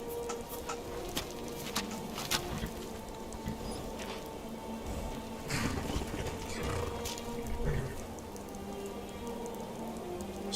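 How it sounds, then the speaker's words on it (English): Steady light rain patters in the Skyrim video game near Solitude, a soft continuous hiss with scattered small drop ticks at low level throughout. "it looks like it's raining a tad"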